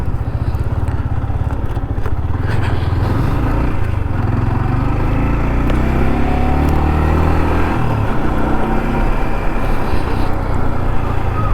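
A motorcycle engine runs loud and close as the rider sets off after a coffee break, a steady throbbing drone with rising pitch sweeps as it accelerates through gears.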